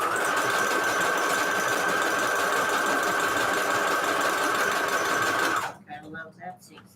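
A sewing machine running steadily as it sews a zigzag stitch on lace, a loud, even mechanical whir lasting several seconds before stopping abruptly, followed by faint handling sounds.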